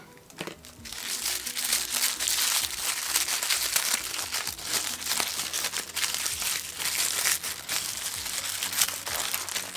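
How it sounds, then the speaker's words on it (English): Tissue paper inside a Harry Potter advent calendar box crinkles and rustles steadily and up close for about ten seconds, with no talking. "So we got some tissue paper."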